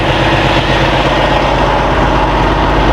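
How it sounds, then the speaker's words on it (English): Truck engine idling with the windshield wipers running, a steady, loud low rumble throughout; the wiper strokes themselves are not distinct over the engine. "Okay, so the wipers are running now,"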